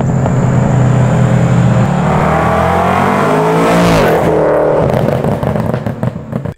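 A BMW M3 with its V8 engine and Gentani exhaust running a burble tune revs hard and loud, rising to a sweeping peak around four seconds before dropping back and crackling off, close and steady throughout.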